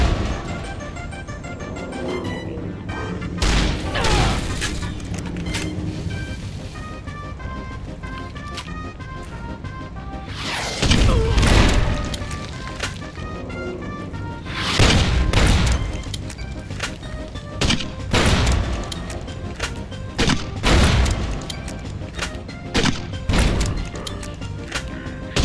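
Grenade explosions in a modded game of Fallout: New Vegas at Bitter Springs: several loud, sharp blasts burst out at irregular intervals over steady game music, with a cluster of impacts in the later half.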